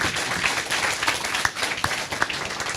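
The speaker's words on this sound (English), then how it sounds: "Give Harvey a big hand clap for being here" Applause at a community business group meeting: an audience clapping steadily with scattered sharper claps standing out, a dense, fairly even patter lasting a few seconds.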